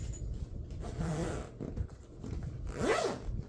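A zipper is pulled closed on a packed toiletry bag, with several short rasping strokes close up, the last one the longest and loudest, and no one speaking.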